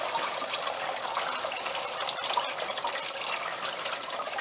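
Coolant drains from a radiator hose on a 2005 Hyundai Santa Fe 2.7L in a steady, close splashing trickle that runs without pause and with no voices.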